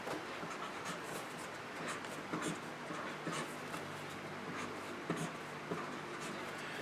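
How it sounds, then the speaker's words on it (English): A pen writes on folded paper with faint, scratchy strokes that come in quick irregular bursts over a steady background hiss, with no one talking. "so let's write that in there"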